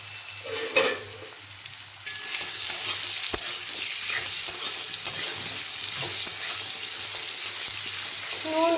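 Potatoes stirred with salt and turmeric in a hot pan, loud continuous sizzling frying with repeated scraping strokes of the spoon, a couple of sharper knocks early on, no talking.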